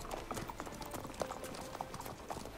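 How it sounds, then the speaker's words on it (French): Horse trotting in the video game The Witcher 3, a steady rhythmic clip-clop of hooves at moderate distance over low ambient game sound, fairly quiet throughout. "Alors bien sûr que mon cheval il peut aller au trot"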